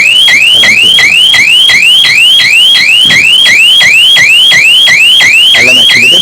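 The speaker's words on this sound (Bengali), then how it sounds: "তাহলে কিন্তু আমার এমার্জেন্সি অ্যালার্ম" A home security system's emergency alarm, set off by a detached door sensor, blares continuously and loudly in a rapid repeating rising electronic whoop without pause.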